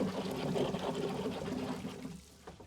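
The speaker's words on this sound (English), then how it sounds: "That's the sound of the sump pump keeping my basement from flooding." A basement sump pump runs with a steady rush of flowing water and a mechanical hum, continuous and fairly quiet, tapering slightly at the end; no voices.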